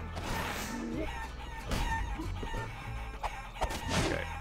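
Chickens in the video game Guacamelee cluck and crow in repeated short calls, layered over steady game music and effects, close and clear.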